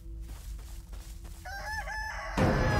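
A giant chicken in the horror game Chicken Feet crows loudly, a drawn-out cock-a-doodle-doo rising over steady low game ambience and rumbling, followed by a sudden loud burst of noise.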